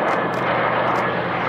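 A Spitfire flies past at the Duxford Flying Legends airshow, a loud, sustained piston-engine roar that stays constant through the short moment.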